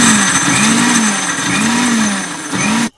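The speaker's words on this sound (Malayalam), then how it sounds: "വെളുത്തുള്ളി, ജീരകം, ചെറുള്ളി ഒന്ന് ക്രഷ് ചെയ്തിട്ട് കൊണ്ടുവരാം" A mixer grinder crushes garlic, cumin and shallots, its loud motor whirring in a wavering pitch as the blades churn the chunks, then stopping abruptly.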